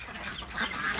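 Ducks call on a duck farm in Si Somdet district, Roi Et, Thailand, a few quacking and honking calls rising over a steady farmyard background, moderately close.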